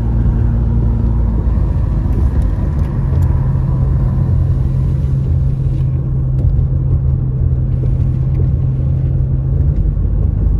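A car cruises through two roundabouts in Big Bear, California as a storm arrives, its steady low road rumble and engine drone continuous and close throughout, with no talking.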